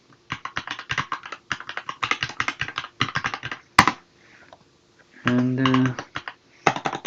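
An email address being typed on a computer keyboard, with quick clattering keystrokes in close bursts, a short pause, a brief louder interruption and then more typing.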